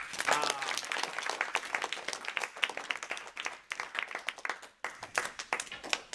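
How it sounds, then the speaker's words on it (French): A small audience claps for a Playmobil puppet show, giving sparse, uneven individual claps at close range that thin out and pause briefly before resuming. "Est-ce qu'on applaudit le spectacle?"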